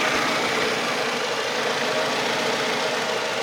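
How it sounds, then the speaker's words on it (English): Toyota Camry engine with about 320,000 miles and new coils fitted, idling with a stumble and surge and an upstream oxygen sensor fault, heard up close as a constant rough rumble with a slightly uneven pulse. "This engine is stumbling a little bit. It's surging."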